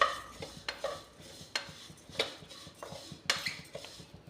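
Moong dal namkeen being roasted in a kadai, a metal spoon scraping and clinking against the pan in irregular strokes, close and fairly quiet, with no talking.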